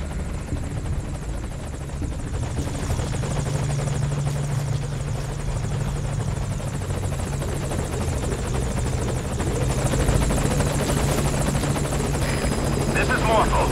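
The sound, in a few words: helicopter in a video game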